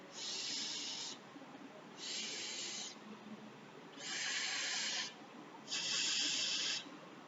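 Four separate breathy exhalations shaped into a soft F sound, each about a second long with short pauses between, close and quiet with no talking.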